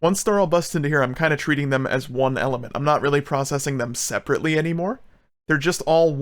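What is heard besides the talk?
No everyday noises stand out.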